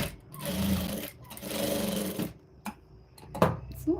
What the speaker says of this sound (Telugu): సో ఇలా టర్న్ చేసుకొని పై వైపు నుంచి స్టిచ్ అనేది వేసుకోవాలి